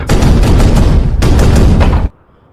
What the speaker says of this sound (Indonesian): Dinding dan bangunan mulai jebol dan rontok diterjang meriam-meriam besar.